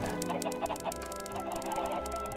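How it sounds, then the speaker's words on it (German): Chickens cluck in the video game Minecraft, a busy overlapping flurry of short clucks and squawks from several birds, steady and fairly close throughout. "die Hühner da oben müssten jetzt eigentlich schon erwachsen sein"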